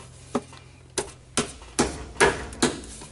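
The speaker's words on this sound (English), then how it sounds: "then we can go ahead and pop that new filter up" A new transmission filter is pushed up into place on a Duramax with an Allison transmission, giving six sharp plastic clicks and knocks in a fairly even rhythm, close and distinct over a quiet background.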